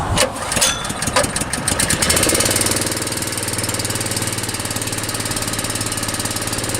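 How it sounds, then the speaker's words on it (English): The motor of a HighCountry spray system starts with a burst of clattering, then settles into a steady, loud, close idle that runs alone to the end. "So we'll start the motor, and then we'll set the pressure."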